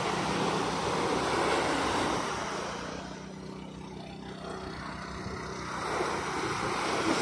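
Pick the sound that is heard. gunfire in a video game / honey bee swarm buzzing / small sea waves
small sea waves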